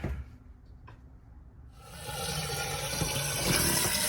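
Hose water rushing into an RV black water holding tank, flushed from the top down to push debris loose; starts as a quiet trickle, then swells into a steady, loud broadband gush of spraying, churning water with no talking.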